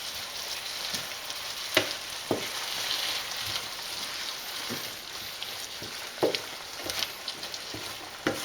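A knob of butter melts into a sauce pan with a steady bright sizzle, broken by scattered spits and pops at irregular intervals; no one talks over it.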